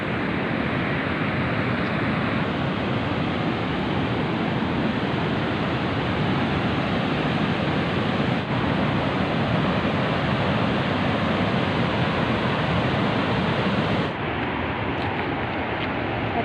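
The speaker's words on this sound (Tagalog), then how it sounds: "Lakas ng tubig." Strong rushing water pours steadily into a snowmelt-fed lake in Norway, a loud, continuous broadband roar held close for the whole stretch, easing slightly near the end.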